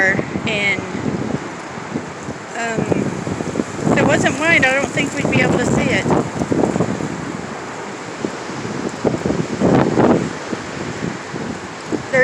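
Strong wind gusts during a windstorm roar and buffet a phone microphone in long surging waves, loud and close, while a person talks over the blasts.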